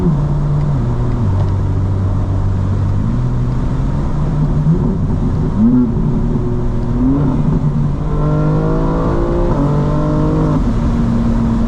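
A modded 2025 BMW M4 CS drives with a loud, close engine drone that climbs and shifts through gears, rising in pitch as it accelerates hard late on, over steady road and cabin noise.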